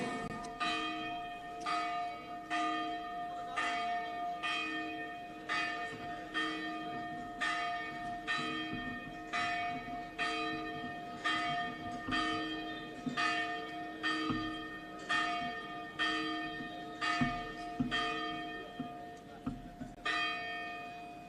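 A church bell tolls at an even, unhurried pace, more than a dozen resonant strikes, each ringing into a lingering hum.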